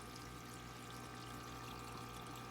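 Water pours steadily into the sump of a planted discus aquarium with anoxic filtration, a constant close rushing splash with a low pump hum beneath, alone.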